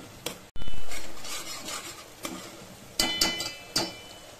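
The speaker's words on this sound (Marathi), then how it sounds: "कांदा टोमॅटोची प्युरी छान असं कच्चेपणा जाईपर्यंत परतून घ्यायची।" A spoon stirring and scraping onion-tomato puree as it sautés in a pan for misal pav, several close metallic scrapes and clinks over a faint sizzle, with no talking.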